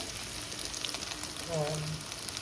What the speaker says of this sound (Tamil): வெள்ளைப்பூடு வெங்காயம் வதங்கிட்டு இருக்கு